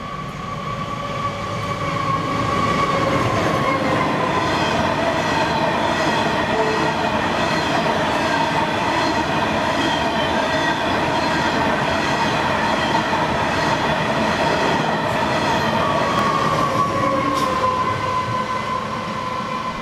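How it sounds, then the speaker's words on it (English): A long freight train of empty coal wagons rumbles steadily past close by in New South Wales, wagons clattering continuously with faint metallic squeals over a constant heavy roar. "we see more freight trains, starting with 5031 from Horizon on an empty coal train"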